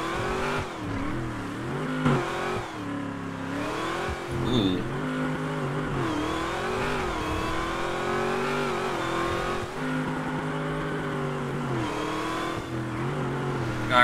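Car engine in GTA 5 roleplay gameplay, revving and accelerating continuously at speed with shifting pitch as gears change, steady and fairly loud with no talk over it.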